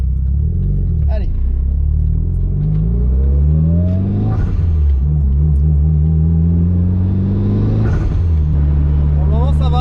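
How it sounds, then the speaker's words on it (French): Mitsubishi Lancer Evo with reinforced clutch and noisy brakes, engine revving and accelerating loudly up through the gears on the road, rising engine tones with shift breaks. "La voiture roule droite."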